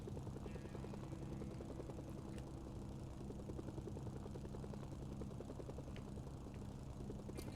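Helicopter in the Mercenaries 2 video game, a steady rhythmic rotor thump with engine drone, constant and fairly faint throughout.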